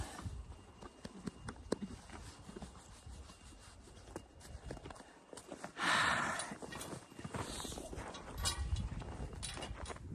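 Hooves clop on the ground in a slow, uneven walking rhythm, with scuffing and rustling around them at a quiet, close level.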